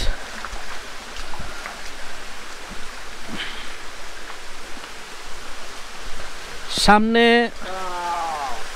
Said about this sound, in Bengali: ঝর্ণার একটা আওয়াজ পাচ্ছি